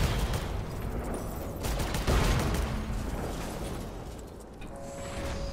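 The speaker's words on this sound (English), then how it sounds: "We're gonna have to shoot our way out." Rapid bursts of gunfire in the VR game Scavengers Odyssey as weapons shoot at consoles to free a clamp, a continuous crackling barrage with a heavier blast near the middle before tapering slightly.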